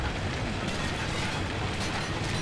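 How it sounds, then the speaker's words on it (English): A flashbang grenade going off in Call of Duty 4: Modern Warfare, a dense, steady roaring blast with ringing noise filling the whole moment, loud and unbroken. "Flashbang out."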